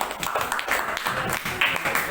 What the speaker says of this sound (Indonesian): Beri aplaus untuk kelompok kinestetik